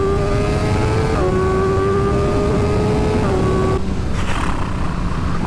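BMW M1000R motorcycle accelerating hard, a high, rising engine whine that steps down at gear changes, loud and close with wind roar, a voice briefly over it.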